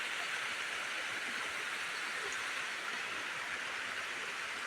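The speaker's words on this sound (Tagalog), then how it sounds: "Natrap tayo ng malakas na ulan." Heavy rain pours down in the mountains, heard from shelter under a banana tree: a steady, dense hiss of falling water that stays even and loud throughout, with no voices.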